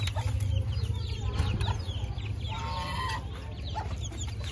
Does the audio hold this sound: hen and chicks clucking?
yes